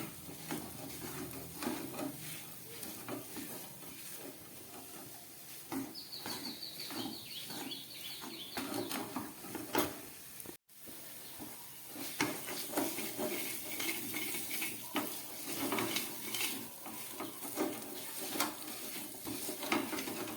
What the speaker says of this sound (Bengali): এটাকে গ্যাস কমিয়ে খুব ভালো করে কষাতে হবে।